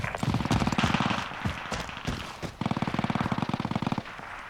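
Call of Duty Warzone gunfire, likely from a Sten SMG in Caldera: rapid bursts of automatic shots, loud and close, one burst at the start and another sustained rattling burst after a short pause.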